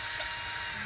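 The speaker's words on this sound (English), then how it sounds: "I am undoing all the wheel bolts with a normal drill." A normal handheld power drill, used instead of an impact gun, undoes wheel bolts on an Abarth car, giving a short, steady, close-up whine with no pauses.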